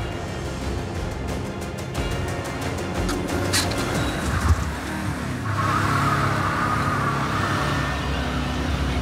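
A restored Audi does a tyre burnout, its engine roaring steadily with a rising tyre squeal and rushing hiss, loud and sustained throughout.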